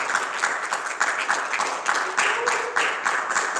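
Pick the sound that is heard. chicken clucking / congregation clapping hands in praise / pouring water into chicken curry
congregation clapping hands in praise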